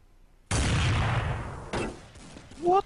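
Loud burst of gunfire in the Counter-Strike map de_inferno, a sharp shot followed by a long rolling echo, then a second shot and a few fainter clicks, ending with a brief rising tone.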